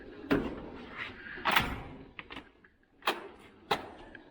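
Drawers on an 84-inch Snap-On Epiq Series toolbox slide open and shut with several separate metallic rolls and clunks, spaced irregularly, fairly close and moderately quiet.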